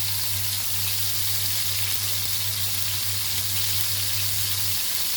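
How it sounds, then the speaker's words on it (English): Crab fries in a pan over a medium flame in a Goan kitchen, giving off a loud, unbroken sizzle that holds steady like light rain with no talk over it. "same way you have to fry this crab"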